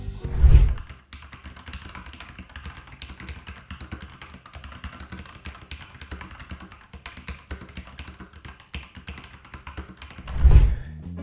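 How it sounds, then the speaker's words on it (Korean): Steady typing on a mechanical keyboard with yellow switches, a dense run of quick close keystrokes at even volume, with a louder thump at the start and near the end. "이게 황축을 가지고 있는 키보드인데 청축에 비해서는 덜 시끄럽고 갈축에 비해서도 덜 시끄러운 것 같은데"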